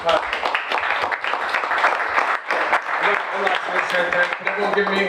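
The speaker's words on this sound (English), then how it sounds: "big round of applause" Applause from a startup pitch event audience, uneven claps mixed with a host talking and some crowd chatter over it, moderately loud and close.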